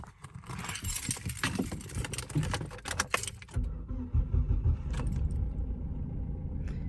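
A used second-hand car with engine problems: keys jangle and rattle close by, then the engine turns over and settles into a steady, rough-sounding idle that continues to the end.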